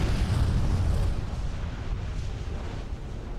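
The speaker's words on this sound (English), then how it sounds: "At 5:30 a.m., the first of 4 cataclysmic explosions occurred on Krakatoa." A deep, sustained rumbling boom from a cataclysmic volcanic explosion on Krakatoa rolls on without a break, heavy low-end roar slowly easing off.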